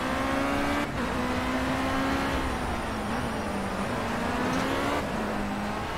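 A race car engine in the Project Cars racing game at Laguna Seca roars continuously and loudly, holding a steady high drone with small pitch dips at gear changes or corners, and no voices over it.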